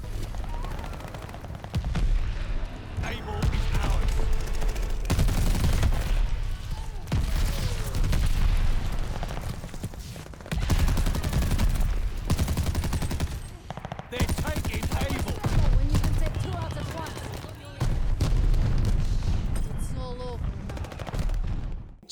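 Video game shooter gunfire fills the scene in loud, rapid bursts of automatic fire and booming shots, separated by brief pauses.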